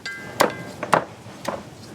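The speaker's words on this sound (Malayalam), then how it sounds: "ഈ ഇടിക്കണതും കൂടെ മതിയല്ല?" Garlic and ginger pounded by hand in a Kerala home kitchen: four dull, evenly spaced thuds roughly half a second apart, close and fairly loud, with no talking.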